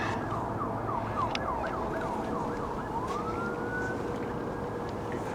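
A wailing siren sweeps up and down repeatedly, then settles into a long steady tone, heard over constant loud traffic rumble.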